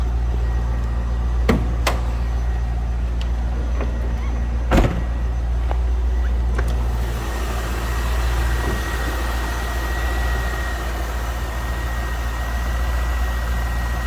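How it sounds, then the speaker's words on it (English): A 1998 Chevrolet Corvette with a 5.7 liter LS1 engine idles steadily from behind the car as a loud, low, continuous rumble, with a few sharp clicks early on. "Slip around to the back so you hear this run. Nice sounding car."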